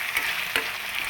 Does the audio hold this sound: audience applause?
no